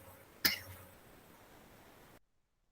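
A single sharp cough from a presenter during a pharmacy practical class, loud and close, followed by a faint fading tail and then silence.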